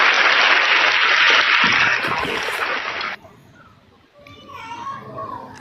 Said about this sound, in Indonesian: Tepuk tangan, Bos.